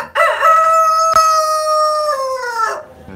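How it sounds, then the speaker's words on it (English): A rooster crows once at sunrise, close and loud, in a single sustained cock-a-doodle-doo of about two and a half seconds, with no one talking. "We got the chickens. This guy right here is trying to upstage me with his crowing."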